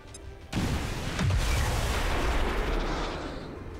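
Grenade explosion in the video game XCOM 2, a sudden loud blast followed by a long rumbling, crackling decay as debris and a truck go up.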